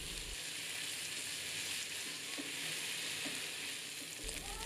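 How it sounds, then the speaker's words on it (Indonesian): Smoked beef stir-frying with garlic and onion in a wok, a continuous bright sizzle with faint stirring scrapes, close and steady without talk. "Masukkan smoked beef dan tumis selama kurang lebih 3 menit."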